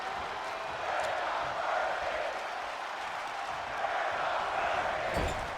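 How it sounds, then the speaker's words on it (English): WWE 2K24 wrestling crowd reacting during a match, a steady, fairly faint roar of cheering and crowd noise with no clear peaks. "The crowd letting them know exactly how they feel about this performance as now Rhodes going top rope."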